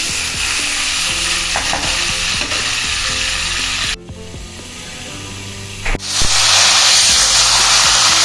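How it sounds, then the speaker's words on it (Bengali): Stuffed pointed gourds (potol) fry in oil in a covered pan, giving a loud, steady sizzle. The sizzle dips briefly when the lid shifts, then swells again, close and continuous. "এবারে একটু ঢাকা দিয়ে আমি পটলগুলোকে ভেজে নেব।"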